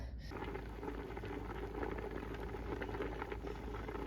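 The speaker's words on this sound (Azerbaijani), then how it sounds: "Qaynamağa başlayanda 15-20 dəqiqə qoy, 20 dəqiqə olsun ki, lap belə etibarlı olsun da." Water boils steadily in a pot holding jars of home-canned corn preserves, a continuous close bubbling and rumbling with no voices.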